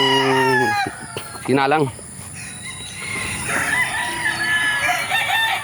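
Broodcock gamefowl rooster crowing loudly and close, one long cock-a-doodle-doo followed by a second shorter crow, with someone talking nearby and faint farmyard background noise.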